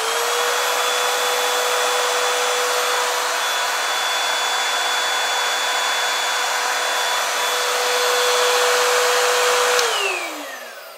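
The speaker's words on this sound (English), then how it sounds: "I am going to turn it on for you guys so you can see what it sounds like" A Bissell 3-in-1 cordless stick vacuum runs at a steady, high whine for about ten seconds, then winds down as it switches off.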